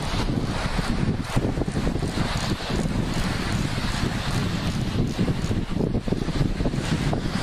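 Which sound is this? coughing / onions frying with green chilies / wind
wind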